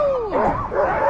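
A sled dog team at a musher's camp in Alaska, heard as close, loud excited yips and whining barks from several dogs in quick succession.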